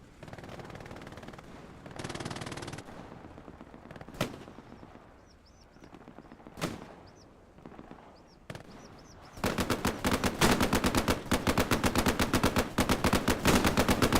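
MG42 machine gun fire in Hell Let Loose on the El Alamein desert map, first scattered single distant shots over quiet ambience, then a long, loud, rapid, steady burst of automatic fire closing out the stretch.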